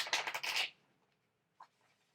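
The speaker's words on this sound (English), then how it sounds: "I'm going to start shuffling" A quick burst of tarot cards riffling together for under a second, followed by near silence and a single soft tap.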